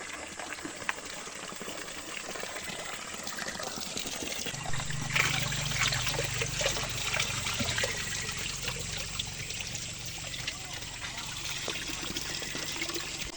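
Water from a natural spring in a barangay in Southern Leyte runs and trickles steadily throughout, a broad continuous wash joined partway by a deeper, fuller pouring rush, close and fairly loud with no talk.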